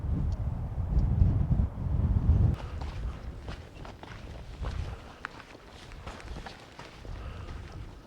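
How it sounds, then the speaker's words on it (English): Strong gusty wind buffets the microphone on an exposed hilltop during a wild-camping trip, loud rumbling gusts in the first few seconds easing to a steadier blow with scattered rustles and light movement. "It's a bit blustery up here."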